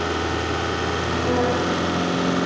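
A car engine runs at raised revs, around 2000 to 3000 rpm, during a battery charging-circuit check. It produces a loud, steady, close drone with a slight lift partway through.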